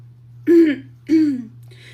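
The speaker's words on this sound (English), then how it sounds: "I clear my throat" Two short, gruff throat clearings in quick succession, close and distinct over a faint steady hum.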